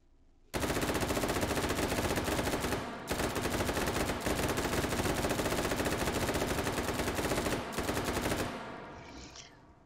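An M16A1 rifle in the VR game H3VR fires long, loud, sustained bursts of rapid automatic fire, broken by two brief pauses, and the last burst fades into a short ringing tail.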